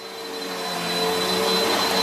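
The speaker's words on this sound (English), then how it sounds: "Just stop the vacuum. Just cut it off." A vacuum cleaner runs steadily on carpet, a loud continuous whirring drone with a high whine that holds level and close throughout, with no voices over it.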